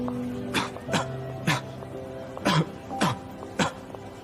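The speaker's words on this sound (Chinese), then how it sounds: "我发现你这咳嗽是越发严重了" A series of six harsh coughs in uneven bursts, fairly close, over a faint steady tonal background.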